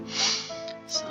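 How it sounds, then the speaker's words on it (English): Wet nasal sniffling from someone getting over a cold, a short close snort-like intake of breath through a congested nose during a detective game session, heard alone without talk. "Sorry for the coughing and the sniffling."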